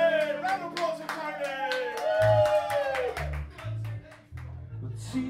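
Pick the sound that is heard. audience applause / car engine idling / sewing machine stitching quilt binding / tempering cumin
audience applause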